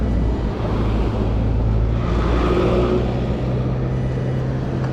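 Road traffic passing on a street, a continuous loud broadband rumble and wind-like roar of car engines and tires close by, with no voices.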